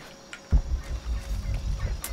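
Turkey gobbling loudly and close in Shadow of the Tomb Raider, a sudden burst followed by a rapid warbling run of gobbles lasting over a second.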